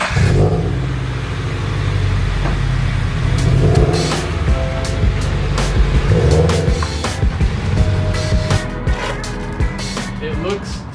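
A Subaru BRZ or Toyota FR-S engine, already warm, idles and revs at close range, a steady low rumble running throughout with brief clicks and rustles on top.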